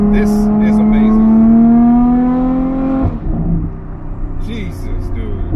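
A straight-piped Ferrari F12 V12 roars loudly at sustained high revs, its pitch climbing steadily before dropping off sharply into a lower, rougher rumble, with a voice briefly audible over it.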